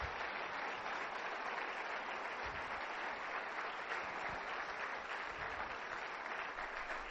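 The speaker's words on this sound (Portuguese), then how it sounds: "Vamos dar um forte aplauso para todos eles." Audience applause at an event, a steady wash of many hands clapping together that stays even and fairly distant for the full seven seconds.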